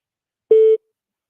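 A single short steady telephone line tone signals an incoming call on a radio broadcast, clean and loud, lasting about a quarter second with silence around it.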